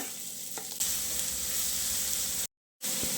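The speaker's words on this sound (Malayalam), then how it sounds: "എണ്ണ ചൂടായി വന്നിട്ടുണ്ട് കടുക് ഇട്ട് കൊടുക്കാം" Mustard seeds, dried red chillies, curry leaves and chopped onion sizzle hard in hot coconut oil for a Kerala-style curry. The frying is steady and close, with a jump in loudness partway through, then a brief gap of silence before the sizzle resumes.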